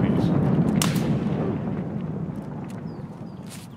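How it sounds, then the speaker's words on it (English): A grenade explodes in Escape From Tarkov with a heavy, booming blast that rolls off into a long, fading rumble. "That grenade was right on him."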